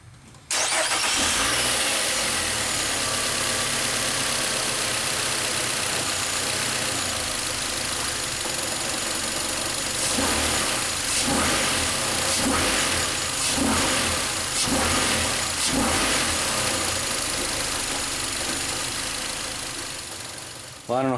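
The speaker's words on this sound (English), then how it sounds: "Let's fire the car up and see if we can't see some movement." A 2007 Nissan Altima engine cranks and catches, then settles into a steady, loud mid-pitched idle with several brief revs partway through, the motor close by and running throughout.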